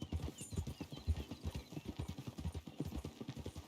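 Hooves of a Mustang horse in the Red Dead Redemption video game clip-clop in a steady, rapid rhythm, close and clear, with a faint whinny in the background.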